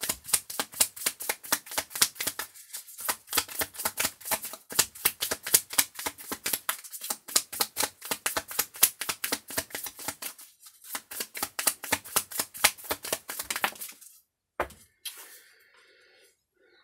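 A deck of cards is shuffled during a card reading, giving a rapid, continuous papery flutter close to the listener for about fourteen seconds. It ends with a few soft taps and then quiet.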